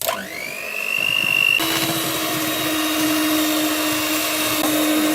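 Electric mixer whisking cupcake batter at high speed, a continuous loud motor whine that steps up in pitch partway through and then runs steadily, close by.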